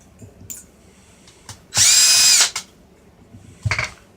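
A power drill drives screws into a Toyota Tundra dash, with one loud, close whirring burst lasting under a second, surrounded by faint handling clicks and taps.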